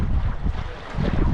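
Strong wind buffets a sailboat heading upwind under its headsail, loud gusty rushing with heavy low microphone rumble that eases briefly and then builds again.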